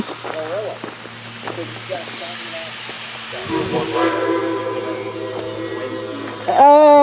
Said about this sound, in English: I thought I heard another steam whistle being blown